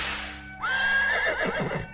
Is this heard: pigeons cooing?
no